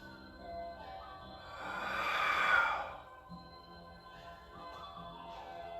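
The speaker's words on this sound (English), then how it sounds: "So breathing in." A single slow, deep breath drawn in during a tai chi session, swelling to a soft airy peak midway and fading, with quiet room tone around it and no talking.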